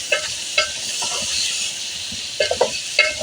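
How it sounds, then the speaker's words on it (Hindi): Tomatoes stirred into a pan of bottle gourd curry, a steady close sizzle with several sharp scraping strokes of the spoon against the pan, clustered near the start and again toward the end. "इसे अच्छे से मिक्स कर लेंगे।"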